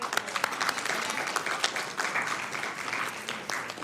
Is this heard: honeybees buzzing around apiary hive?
no